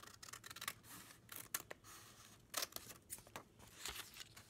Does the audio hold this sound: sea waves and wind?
no